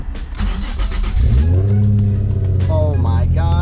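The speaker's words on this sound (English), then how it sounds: "Oh shoot, okay, starting it up right now." A Nissan 350Z HR engine cranks and catches, then revs up loud and close, its pitch climbing and swinging as the throttle blips, with a voice briefly audible over it.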